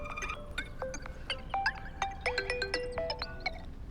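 A phone ringtone plays a quick, bright melodic electronic tune of rapid notes for about four seconds, fairly near and with no voices.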